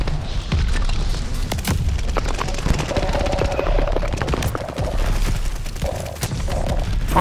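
Shotgun blasts from Call of Duty: Vanguard, a double-shotgun loadout, boom out in repeated loud reports over a dense, continuous battle din, with a voice talking faintly in the mix.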